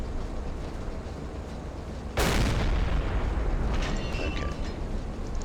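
A single heavy boom from a naval combat game erupts partway through, loud and close, with its blast decaying into a rumbling tail over steady background game ambience.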